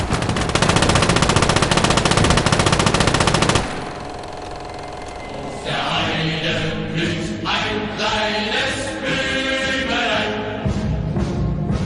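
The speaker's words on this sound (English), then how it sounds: "There's some kind of infantry weapon there." Infantry weapon gunfire in the World War II game Call to Arms: Gates of Hell Ostfront, a dense, loud burst of rapid automatic fire, then a lull and further sustained firing with layered battle noise.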